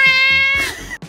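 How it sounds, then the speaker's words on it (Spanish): A very expressive cat screams in a long, loud, strained yowl that holds steady and then bends downward, followed by a brief second cry, close and alone. "este curioso y muy expresivo gato gritón"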